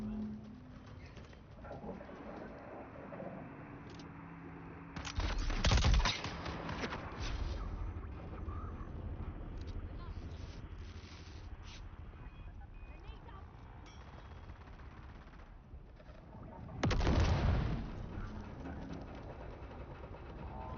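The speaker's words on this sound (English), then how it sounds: "Fucking nades at me now." Two grenade blasts in the video game Dune Awakening, each a short loud burst with a rumbling tail, spaced about twelve seconds apart over a steady game-world ambience.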